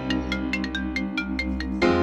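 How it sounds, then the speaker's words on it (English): A phone rings with a bright, repeating melodic ringtone, a quick series of evenly spaced tones at moderate loudness, ending in a slightly louder sustained note. "hold on, my phone a ring."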